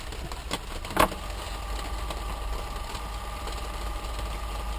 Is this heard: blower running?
yes